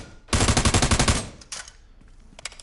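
Rapid automatic gunfire in a video game, a dense burst of about a dozen loud shots over one second, followed by a few scattered fainter shots and echoes.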